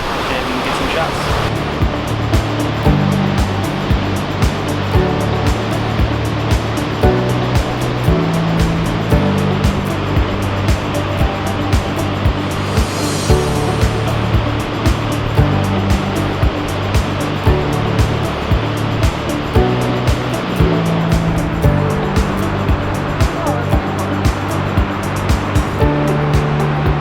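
Niagara Falls roars in a continuous, loud broadband wash heard up close in the mist, a steady rush with no break throughout.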